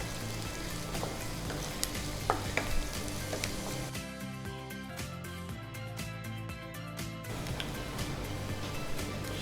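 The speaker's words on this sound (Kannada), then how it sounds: "ಈರುಳ್ಳಿ ಸಹ ಒಳ್ಳೆ ಫ್ರೈ ಆಗಬೇಕು." Onions frying in a pan for capsicum sabzi, a quiet steady sizzle with occasional stirring clicks; a brief musical passage cuts in partway through before the frying sound returns.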